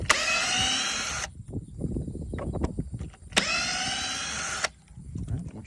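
A power screwdriver drives screws out of a door hinge in two whirring bursts of about a second each, with clunks and handling noise between them.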